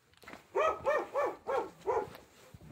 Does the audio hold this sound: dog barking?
yes